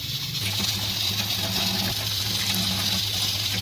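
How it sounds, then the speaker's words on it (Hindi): Peeled tinda (apple gourd) is washed under gushing water, a steady close splashing rush with no talk. "इनको अच्छी तरह से हम धो लेंगे।"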